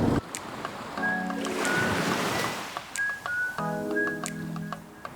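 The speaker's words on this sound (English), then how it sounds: "No wind, engine on, and just a gentle hootle up the loch towards the narrows at Spit." A sailboat motors under engine across a calm Scottish loch, with a steady hum and water swishing along the hull, some tonal beeps or whistles cutting in twice, fairly close and moderately loud.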